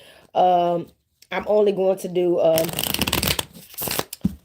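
A tarot card deck is shuffled in a rustling, riffling burst that follows a stretch of a voice talking and runs partly under it.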